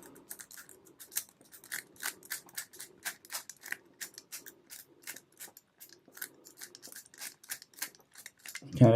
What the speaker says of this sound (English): shuffle the wheels, give it a really good shuffle